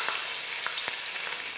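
Sliced onion sautés in hot oil in a pan for fried rice, giving a steady, close, even sizzle and crackle with small pops throughout and no talking.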